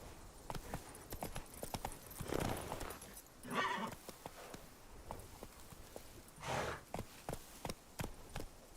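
Roach the horse galloping in the video game Witcher 3, with rapid rhythmic hoof clip-clops and bursts of snorting breath and a whinny, fairly close and steady, no voices.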